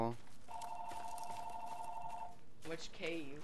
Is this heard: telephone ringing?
yes